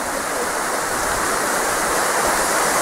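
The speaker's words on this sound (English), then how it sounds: "here are the falls from the other side" A steady, loud roar of a waterfall heard while crossing a river on a rope rail, with broad rushing water noise holding constant throughout and no voices.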